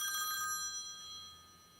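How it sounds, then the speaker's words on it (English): A mobile phone rings with a bright, bell-like electronic tone, fairly faint and fading over under two seconds in a quiet room. "Oh, my phone's ringing."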